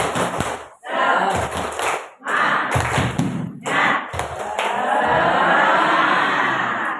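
A classroom of students does a rhythmic spirit clap, loud bursts of clapping and thumping in short chanted phrases separated by brief pauses, ending in a longer sustained round with voices shouting along.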